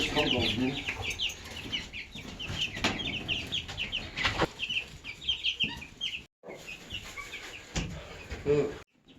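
Chickens cluck and murmur continuously nearby, with scattered sharper calls and occasional knocks and rustling.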